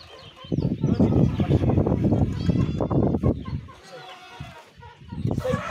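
Chickens cluck and squawk loudly and continuously at close range around layers mash feed being mixed by hand, with busy overlapping calls that briefly thin out before picking up again.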